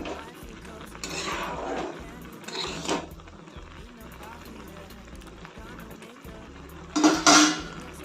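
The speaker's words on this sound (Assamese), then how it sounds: "মই ভালকৈ লৰাই দিছোঁ।" Spoon scraping and clinking in a pot of red lentils cooked with ridge gourd, in three short bursts of stirring over a low kitchen background with faint voice activity.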